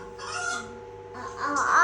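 A voice imitates a hen's clucking, two short throaty clucks in quick succession.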